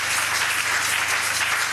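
A church congregation applauds steadily to acclaim Jesus Christ during a French-language service, a dense, continuous roomful of clapping with no voices over it.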